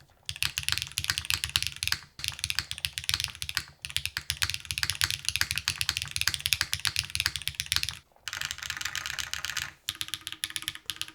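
Fast, continuous typing on an Onibi mechanical keyboard, the plate knocking against the top case, dense close clacky keystrokes with a couple of brief pauses and no voices.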